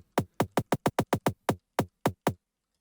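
Psytrance snare synthesized in Sytrus, layered with a click, fires a quick sequence of about a dozen crisp, snappy hits that speed up and then spread out, dry and alone.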